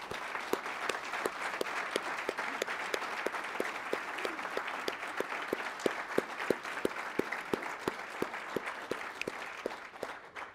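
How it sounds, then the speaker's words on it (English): Audience applause at a press conference opening a baseball training center, steady clapping from a moderate crowd lasting the full stretch, evenly sustained and fading slightly at the end. "So big round of applause for Susie."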